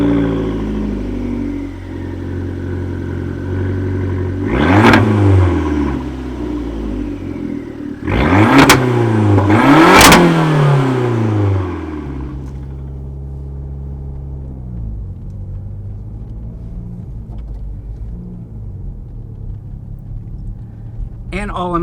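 A 2019 Fiat 500 Abarth with a 1.4 liter MultiAir turbocharged engine: loud, deep exhaust rumble with two rising revs around the middle, then settling back to a steady low idle burble.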